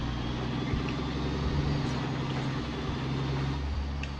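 A big 1,000 horsepower truck engine in the Harsh Russia driving game, labouring along rough icy roads in Transbaikalia with a steady, loud low rumble and droning harmonic hum throughout, no voices over it.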